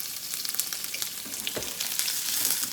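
Shrimp sizzling in a hot pan, a dense bright hiss that builds and crackles steadily for the whole stretch, close up, with no speech.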